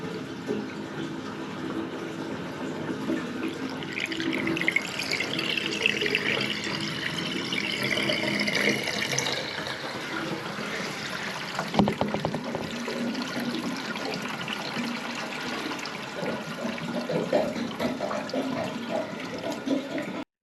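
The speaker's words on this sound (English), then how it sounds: "the bath's flowing away lovely, and we got no leaks" Bath water drains down a pipe freshly cleared of a hairball blockage, a steady close rushing and gurgling flow that runs throughout, with a brief rattle midway.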